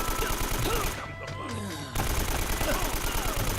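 Rapid bursts of gunfire in the Uncharted 1 video game, firing continuously with a short gap in the middle, loud and dense, with someone talking over it.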